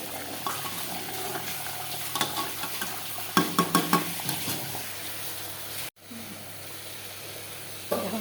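Boiled eggs being stirred and fried in a pan for a spiced egg curry give a low, steady sizzle, with scattered clicks of a spatula scraping the pan and a brief break partway through.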